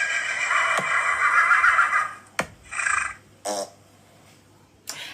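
A storyteller's voice imitates a horse dropping dung in a children's story, making a series of wet, blubbery lip-flapping plops and splutters, first a longer rolling burst, then several short separate plops close to the microphone.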